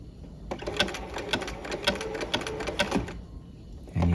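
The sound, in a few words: sewing machine stitching a zigzag narrow roll hem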